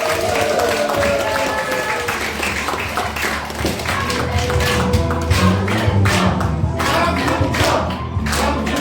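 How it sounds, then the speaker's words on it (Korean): Applause from a lecture audience in Cheonan breaks out at the close of a speech on Chungnam provincial goals, a dense steady wash of clapping mixed with crowd murmur and a low hum, sustained for the full span. "다시 한번 큰 박수 부탁드리겠습니다"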